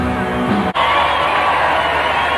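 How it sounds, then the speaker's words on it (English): A large festival crowd cheering and whooping at Glastonbury's Pyramid stage in 2000, a loud, dense roar sustained throughout with a brief dip early on, shouts and voices blending into the mass. "The crowd goes wild."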